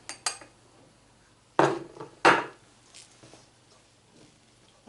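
Cake batter for a Réunion-style gâteau tison is stirred in a bowl, making a few sharp scraping clatters of utensil against the bowl, separated by quiet gaps.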